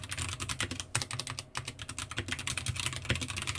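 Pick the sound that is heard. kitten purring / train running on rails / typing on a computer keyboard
typing on a computer keyboard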